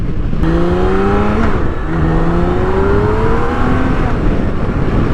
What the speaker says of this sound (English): This thing is like a Ferrari, I swear to God. This is the way it sounds.